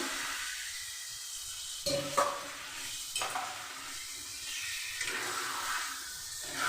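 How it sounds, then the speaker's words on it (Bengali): Chicken frying in a pan on a medium gas flame, with a constant close sizzle and repeated bursts of stirring and scraping at a slow, regular rhythm. "গ্যাসের ফ্লেমটা আমি মিডিয়াম করেই মাংসটাকে কষে নেব"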